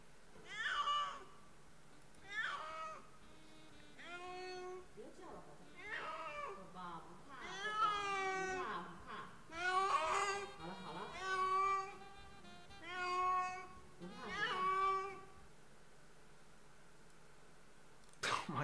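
A cat meows about eight times in a steady series of drawn-out, rising and falling cries, close and clear over a low background hum.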